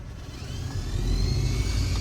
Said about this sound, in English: Sounds like might have a mouse nest in the blower motor, but it works.